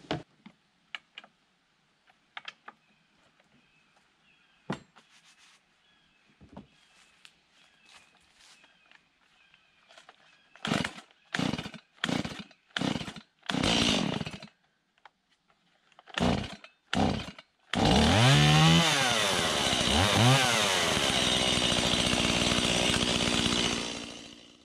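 A Stihl MS170 chainsaw used in the woods for trail building and tree cutting: faint rustles and footsteps first, then a series of short loud revving bursts, and finally a sustained full-throttle cutting roar with pitch shifts as the chain bites into the wood.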